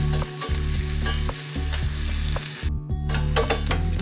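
Onion with chopped green chilli sautéing in a pan for keerai dosa, a steady close sizzle with stirring scrapes of the spatula throughout and no talking.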